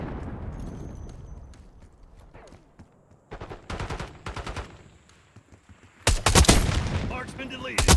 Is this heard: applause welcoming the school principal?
no